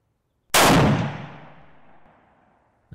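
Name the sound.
rifle gunshot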